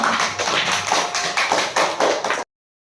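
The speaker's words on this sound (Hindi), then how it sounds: "इनके लिए ताली हो जाओ" Primary school children in a classroom clap together for a classmate in a quick rhythmic pattern of about eight loud, close group claps, stopping abruptly.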